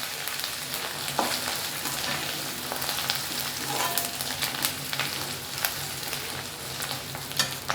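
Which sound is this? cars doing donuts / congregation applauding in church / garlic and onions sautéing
garlic and onions sautéing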